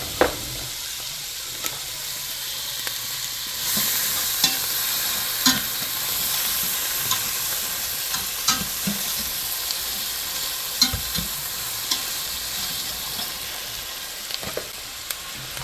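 Onions sizzle and fry in butter in a hot pan, a loud steady hiss broken by sharp scrapes and clacks of stirring, heard close with no voices.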